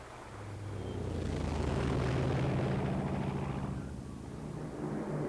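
A droning aircraft engine passes overhead, swelling to a steady peak and slowly receding, heard distantly and alone without voices; the planes are German aircraft over Russian territory in 1941.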